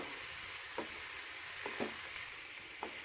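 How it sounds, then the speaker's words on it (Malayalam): Banana snack mixture is stirred in a hot pan, a continuous soft sizzle broken by a few brief scraping strokes of the spoon, close and quiet. "ഇത് വീണ്ടും നല്ലവണ്ണം ഒന്ന് മിക്സ് ചെയ്ത് കൊടുക്കാം"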